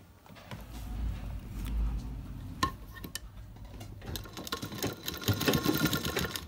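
A sewing machine stitches a blouse with a soft, steady mechanical whir and light clatter, and small sharp clicks and taps of handling break through, close and fairly quiet.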